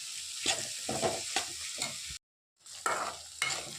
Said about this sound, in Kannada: ಕ್ಯಾಪ್ಸಿಕಮ್ ಹಾಕ್ಕೊಳ್ತೀನಿ. ಹಾಕಿ ಫುಲ್ಲು ಮಿಕ್ಸ್ ಮಾಡ್ಕೊಳ್ತೀನಿ.